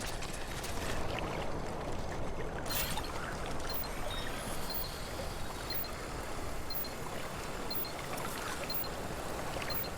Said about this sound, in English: It's just a vast sea.